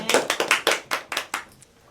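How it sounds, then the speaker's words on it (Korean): A small Bible study group claps together before a Tuesday lesson. About eight distinct, fairly loud claps come in a quick, slightly uneven rhythm, then fade out. "우리 박수 치고 시작하겠습니다."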